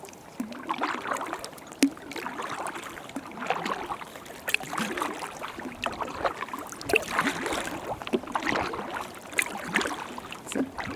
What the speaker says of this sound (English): Out on a little solo paddle.